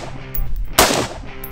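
A single sharp M4 rifle shot on a firing range cracks out loud and close, its report ringing and decaying over about a second, with no talk in between.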